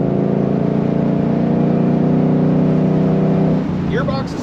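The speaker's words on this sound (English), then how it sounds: "Driving this Mustang with the 5-liter." Loud, steady drone of a 5-liter V8 in a 2021-22 Ford Mustang GT convertible with a manual gearbox, heard from inside while driving, the engine note holding then easing off near the end.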